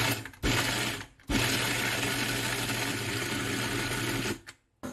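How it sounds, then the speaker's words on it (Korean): A blender grinding cooked barley porridge roars loudly and steadily, stopping briefly after a short burst and then running on for several seconds before cutting out. "믹서기에다가 갈아주겠습니다"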